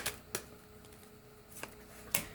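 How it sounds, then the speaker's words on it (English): Tarot cards being shuffled during a reading, heard as a few quiet, separate riffles and taps spaced out over a couple of seconds against a hushed room, with no talking. "the cards are shuffling quite easily"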